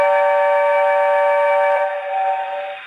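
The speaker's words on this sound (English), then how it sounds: "So here's the whistle." A Lionel LionChief Hogwarts Express toy train sounds its whistle: one steady, bright multi-tone blast held for nearly two seconds, then softening and fading, clear and alone with no talk.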